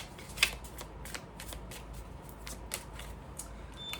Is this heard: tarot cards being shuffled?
yes